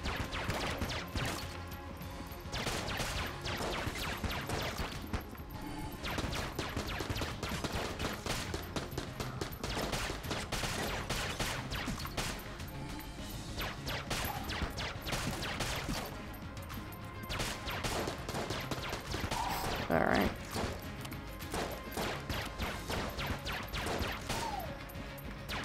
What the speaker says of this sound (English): these guys have Tommy guns, which you can't get in the game unless you unlock in the shop